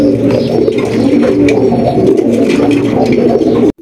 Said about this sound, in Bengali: কালো কুচকুচে একজোড়া লাখা কবুতর